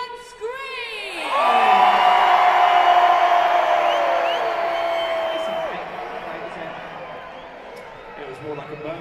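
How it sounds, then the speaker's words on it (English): An adult audience at a Hot Wheels Monster Truck Live show in an arena screams together, a loud sustained crowd roar that swells after a brief lead-in and slowly fades into scattered voices. "I want to hear you scream as loud as you can"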